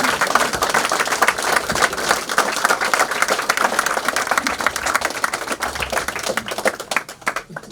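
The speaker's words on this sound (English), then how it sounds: "he really deserves a round of applause" Audience applause fills a commemoration event in Mohill for a local doctor killed in 1923: dense, steady clapping from a sizeable crowd, close and loud throughout before thinning slightly at the very end.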